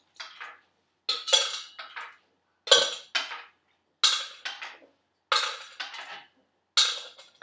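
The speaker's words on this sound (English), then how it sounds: "pick up these beans one at a time with the teaspoon, and then place them in the can as fast as you can" Dried beans picked up one at a time with a teaspoon and dropped into a can during a hand function test, giving a run of quick, sharp metallic clinks in small clusters, close and alone in a quiet room.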